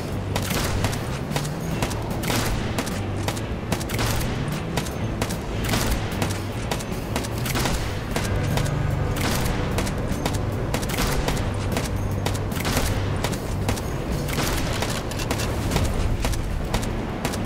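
Gunfire from a weapon in the LifeAfter video game, dense continuous bursts of loud shots and booms layered with game sound effects, steady and intense throughout.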